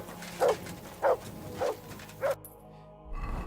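Four short, evenly spaced dog barks from a dog in Kingdom Come: Deliverance II, a medieval game, sound close and fairly loud over a quiet ambient bed, followed by a low rumble at the end.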